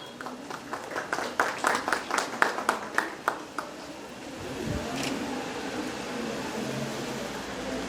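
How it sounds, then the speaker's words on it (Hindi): Distinct, fairly close hand claps ring out at a college felicitation ceremony, a sparse burst of individual slaps that thins after a few seconds into a low hum of room noise and faint murmuring. "जोरदार तालियां हो जाए इनके लिए"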